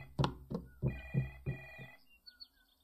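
A telephone ringing in a short burst of repeated electronic trills with brief gaps, fairly clear, fading toward the end with faint chirps.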